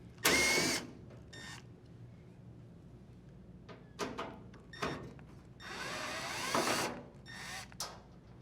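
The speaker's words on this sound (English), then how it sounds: "Unthread the 2 screws that secure the front panel." Screws are unthreaded from an appliance front panel. Short bursts of a tool whirring and clicking come close by, split up by quiet gaps, with a few sharper metallic knocks along the way.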